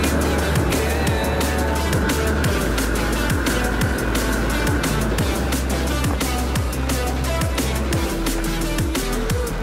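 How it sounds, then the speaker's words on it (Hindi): A vehicle roars past at high speed on a straight road near Pokhara, Nepal, with a loud continuous engine and road rumble filling the scene and rhythmic thumps running throughout. "देखिए गाड़ी कितना स्पीड में वो उड़ा के लाए हैं।"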